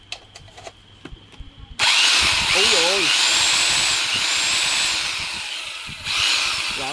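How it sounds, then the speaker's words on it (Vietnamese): A hammer drill starts abruptly after some handling clicks and runs loudly and continuously, drilling and chiselling with a harsh buzzing rattle, while a man exclaims over it. "Rồi này vừa khoan vừa đục rồi"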